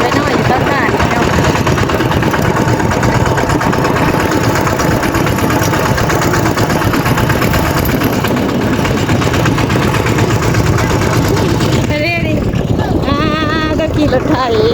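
A farm tractor engine runs steadily throughout, a loud continuous near rumble with a rough mid-range drone, and other noise briefly breaks in near the end.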